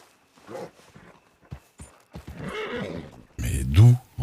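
A horse whinnies loudly near the end, a sharp rising call that follows scattered knocks and excited voices talking.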